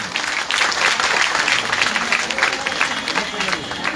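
Crowd at a political rally clapping, a thick, steady round of applause lasting a few seconds, loud and close, with some voices mixed into the clapping.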